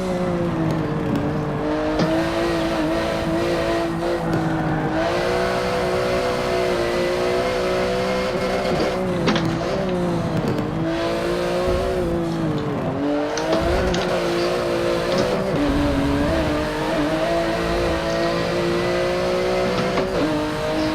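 A race car engine in Forza Motorsport 7 drives a lap on PC, a loud continuous close engine drone rising and falling as it revs through gear changes, with brief tire squeal, steady throughout without talk.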